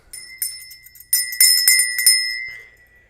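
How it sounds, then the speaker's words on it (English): A bright, sustained bell tone is struck several times in quick succession, with the strikes clustered in the middle and a ringing decay at the end. It is loud and close with a glassy, jingling edge, and no one speaks. "Ring the bell."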